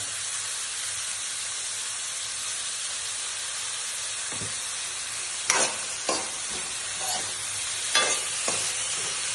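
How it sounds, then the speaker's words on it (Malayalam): Onions with ginger-garlic paste and a pinch of salt sauté in a pan with a steady hiss and sizzle, broken by a few sharp scrapes and clinks of the stirring spoon, with no voices. "നന്നായിട്ട് ഉള്ളി നല്ല ബ്രൗൺ കളറാകുന്നത് വരെ നന്നായിട്ട് വഴിച്ചു കൊടുക്കണം"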